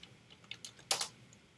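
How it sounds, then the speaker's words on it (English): Keys are pressed on a computer keyboard while a password is typed in a Linux terminal during a Python install, a handful of light clicky taps ending in one louder keystroke, close and quiet. "just type in your password"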